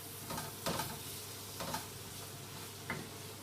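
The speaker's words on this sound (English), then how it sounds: "Let it fry a little bit." Ingredients for a salt fish (makayabu) stew fry quietly in a pan, giving a soft, steady sizzle. A few sharp scraping stirs break through at irregular moments.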